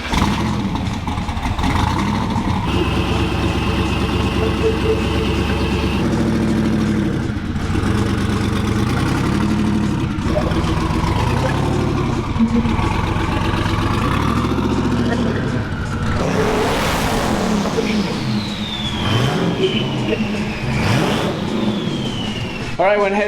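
A car engine runs steadily throughout, with rises and falls in revs and a few sharp revving sweeps, while people talk over it now and then.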